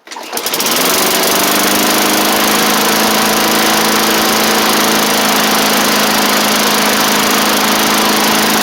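A 1990s MTD Yard Machines push lawn mower with an old-style Tecumseh engine starts up and runs steadily at a loud, buzzing drone, close by and continuous throughout.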